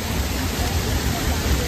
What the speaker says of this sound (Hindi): पानी का सोता।